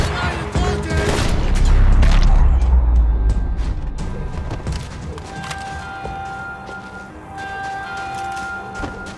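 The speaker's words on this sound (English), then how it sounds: "Gunfire over Hoboken." Gunfire over Hoboken in the game Max Payne 3 comes as a loud, dense burst of shots with a booming low rumble early on, then fades into scattered sharp cracks and ringing tones.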